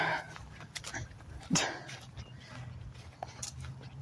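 Dogs nearby give a few short barks and whimpers, scattered over a quiet outdoor background.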